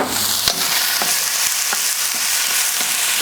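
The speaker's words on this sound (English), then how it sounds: "Give them a stir fry." King prawns stir-frying in a seasoned wok on a Kamado Joe grill, a steady close sizzle with a few sharp scrapes and clacks of the utensil against the metal.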